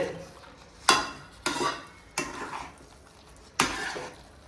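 A spoon scrapes and stirs chopped pineapple through thick cooked semolina pudding in a pan, with four distinct sharp scraping strokes spaced irregularly, close and fairly loud, with no talk.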